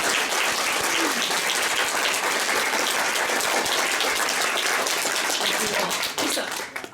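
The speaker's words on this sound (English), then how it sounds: "Can we get another round of applause for our veterans?" Sustained, dense applause from a crowd honoring veterans at a women's network holiday party at Filomena's, loud and steady throughout before tapering off at the very end.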